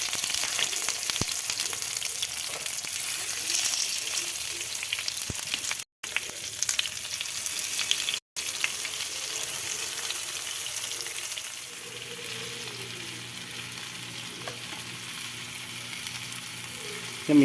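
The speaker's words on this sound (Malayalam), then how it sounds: "അതിന് ശേഷം നമുക്ക് കറിവേപ്പില ഇടാം. എന്നിട്ട് അതിൻ്റെ മുകളിലേക്ക് മീനെടുത്തിട്ട് അങ്ങോട്ട് വെച്ച് കൊടുക്കാം." Sardines fry in coconut oil with curry leaves in a pan, making a continuous dense sizzle and crackle that is close and fairly loud. It runs throughout with two brief dropouts and a softer stretch near the end.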